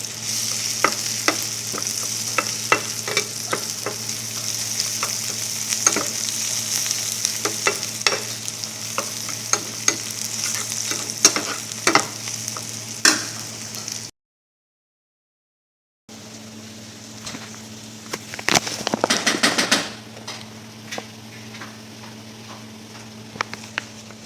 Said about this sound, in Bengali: তারপর হচ্ছে রসুনটা দিয়ে ভালো করে ভাজবো